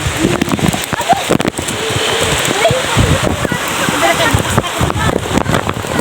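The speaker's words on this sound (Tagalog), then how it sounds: "Umuulan na, guys. Kahit umuulan, nangunguha pa rin sila ng galo." Steady rain pours onto the leaves and branches of a fruit tree in the countryside, a dense, loud hiss with splattering drops, while people talk nearby.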